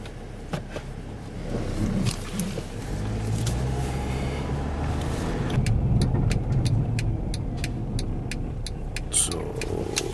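A Mercedes GL320 with a turbo actuator fault and low power rumbles along the road with steady engine and tire noise, a voice talking over it throughout.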